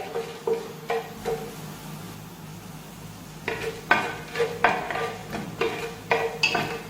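Spices, including fennel seeds, being roasted and stirred in a pan while making Malabar-style ghee rice and beef curry; a steady low sizzle runs under repeated scraping clinks of a spoon against the pan, in short bursts, close and moderately loud.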